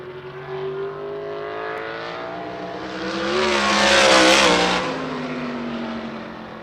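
A USAC race car at Indianapolis Raceway Park roars onto the front straightaway, its engine note climbing and swelling to a loud peak near the middle before easing away, with no talk over it.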